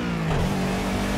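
A race car engine revs hard in Project Cars, a loud, steady droning roar that rises slightly in pitch and holds throughout with no speech.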